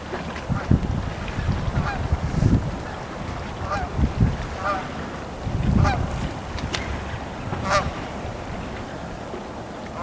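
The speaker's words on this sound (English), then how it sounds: "Looks like a favorite place of ducks, and there's an old goose came in with them." A goose among ducks at a riverside spot by a fishing area gives several loud, spaced honks over soft water and outdoor background noise.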